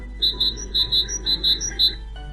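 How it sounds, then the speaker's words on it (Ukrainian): A great tit chirps in a quick series of about nine bright, high, clipped notes in a steady rhythm, close and clear against a quiet background. "Ось синичка прилетіла."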